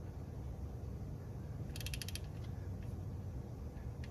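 An inch-pound torque wrench tightens a bolt during an automatic transmission service, giving a quick burst of small ratcheting clicks in the middle of a faint, noisy background.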